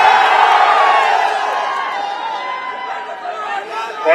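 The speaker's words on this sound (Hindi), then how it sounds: "ये बुलाई हुई भीड़ नहीं है, अपने साधन से आई हुई भीड़ है" A large crowd at a Samajwadi political rally in Kaushambi cheers and shouts, loud mixed whoops and chatter that swell and fade, with a fresh surge of cheering at the end.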